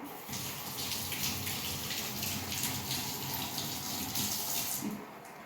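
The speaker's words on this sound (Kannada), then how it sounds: "ನೀರು ಹಾಕೊಂತೀನಿ" Water pours steadily into a cooking pot holding garlic and ginger for a mutton dish, a continuous close splashing rush lasting several seconds with no talking.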